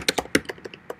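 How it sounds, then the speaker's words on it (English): Hard, heavy keystrokes on a computer keyboard, about a dozen loud uneven clacks struck in quick irregular bursts, close and alone with no talking. "what are you typing with a hammer?"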